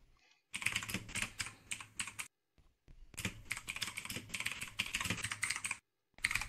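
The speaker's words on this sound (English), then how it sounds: "I can still hear you typing, man." Rapid clattering keystrokes on a computer keyboard come in dense, close bursts separated by short silent pauses, with no voices.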